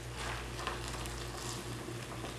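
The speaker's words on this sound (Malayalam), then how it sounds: "ഇനി ഇതിലേക്ക് നമുക്ക് തിളച്ച വെള്ളം ഒഴിച്ചു കൊടുക്കാം." Boiling water poured over soya chunks in a bowl, giving a steady, close rushing hiss that runs unbroken for the whole stretch with no voices.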